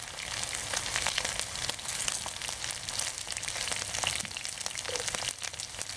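Chicken deep frying in oil makes a steady close sizzle with frequent sharp pops and crackles spread across the whole stretch.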